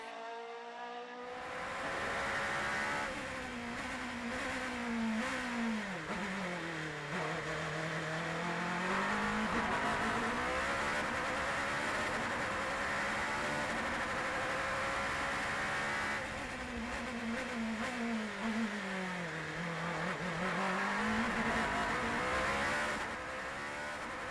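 Onboard a Norma M20 FC sports prototype racing around the Sternberg hill-climb course: a loud, continuous engine wails and rises through the gears, dips on downshifts and braking, then climbs again, with wind and road rumble throughout.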